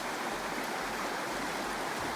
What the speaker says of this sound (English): The current's a little stronger that we're walking against.